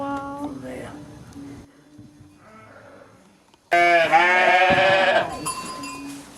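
Meat sheep bleat loudly nearby, one long quavering call standing out after quieter, softer bleats and a pause.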